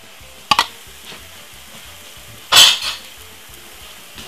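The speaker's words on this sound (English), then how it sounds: "give it a lovely stir." Sardine and egg stirred in a frying pan over medium heat: two distinct scraping clinks of a utensil against the pan over a low, constant sizzle, with no talking.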